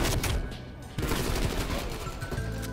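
Sustained gunfire in Call of Duty Cold War, a dense, loud burst of rapid shots running continuously with no break for nearly three seconds.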